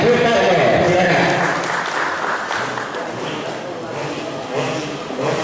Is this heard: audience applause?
yes